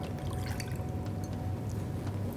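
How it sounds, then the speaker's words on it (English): Water being poured into a bowl of wet ingredients for eggless chocolate cupcake batter, a steady close liquid pour running continuously with no talk. "So I'm going to add in the water,"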